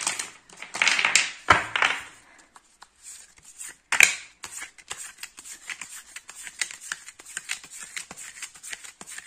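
Tarot cards being handled close up: papery shuffling, sliding and flicking in quick irregular bursts, with a few sharper snaps, soft to moderate in loudness and without talk.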